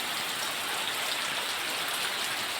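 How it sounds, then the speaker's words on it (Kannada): Steady, dense rain pours down in a constant hiss, loud and unbroken throughout. "ಮಳೆ ಜೋರು ಬರಲಿಕ್ಕೆ ಶುರುವಾಯಿತು"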